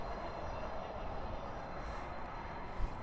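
Boeing 747 jet engines rumble steadily at night at Dallas/Fort Worth airport as the plane taxis, a broad continuous roar at moderate distance with no talk.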